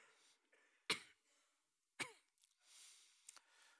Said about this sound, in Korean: 이 타이밍에 우리가 기침을 한번 더 하겠습니다.